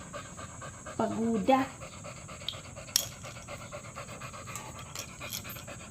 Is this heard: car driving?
no